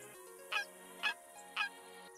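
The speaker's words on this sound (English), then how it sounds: "the turkeys are a little bit larger than usual." Three short, evenly spaced honking gobble-like calls from an oversized wild turkey in theHunter Classic hunting game ring out over a steady hum, clear and fairly close.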